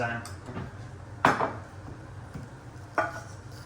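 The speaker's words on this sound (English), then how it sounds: "in we go with the rice. Literally just going to go in with the mince and veggies." Kitchen clatter while rice is plated with mince and vegetables: a few sharp clinks and scrapes of utensils against dishes, with a person talking over the sounds.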